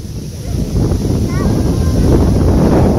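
Steady wind buffets the microphone at a resort lagoon, a loud continuous rumbling roar that builds and holds throughout, with faint voices mixed in.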